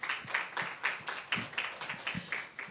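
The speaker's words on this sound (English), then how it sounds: "A round of applause for her, please." Audience applause for a panelist at a panel discussion, a rhythmic patter of hand claps that holds steady for a few seconds, fairly soft and a little distant.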